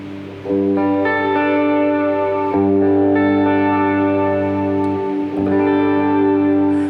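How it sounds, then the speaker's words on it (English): An electric guitar sounds through a reverb effect with a 100 millisecond setting, ringing sustained chords that swell and restart a few times, loud and alone. "the dry signal takes precedence first, then the reverb builds behind it"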